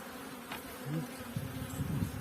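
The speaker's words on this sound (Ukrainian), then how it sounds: "Бачите, утеплили, бджола на місці." Honey bees buzz around an opened hive during a spring inspection at an apiary, a dense, steady, close hum with no talking.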